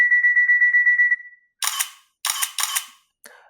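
An ASUS ZenFone 2 phone camera taking three selfie shots: a repeating electronic beeping countdown tone, then three close mechanical shutter clicks, and a faint final blip.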